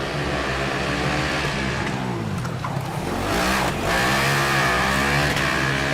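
Formula Student race car on an autocross course, engine note dropping through a downshift and then climbing as it accelerates hard out of a corner, a continuous loud high-pitched whine heard from trackside.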